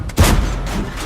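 A single heavy cannon shot from the T26E3 Eagle 7 tank in World of Tanks, one sharp close boom trailing into a rumbling decay, heard alone.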